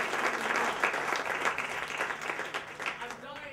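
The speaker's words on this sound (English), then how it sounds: "Give Tyra a big round of applause, everybody." Audience applause at a burlesque festival in Chicago breaks out for a mind-reading act, a dense, steady wash of clapping from a room full of people that holds strong and then starts to thin out near the end.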